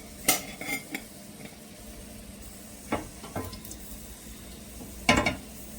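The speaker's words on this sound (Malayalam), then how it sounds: "കടുകൊക്കെ പൊട്ടി തുടങ്ങിയിട്ടുണ്ട്." Mustard seeds crackle in hot coconut oil in a pan while mutton curry is started, with a few sharp pops and spatters standing out over a low, steady background.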